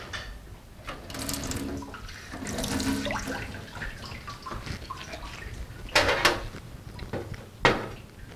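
Ordinary tap water running from a kitchen faucet into a sink, a steady close hiss and splash with brief clunks of a cupboard or container being handled, then sharper bursts as the flow is adjusted.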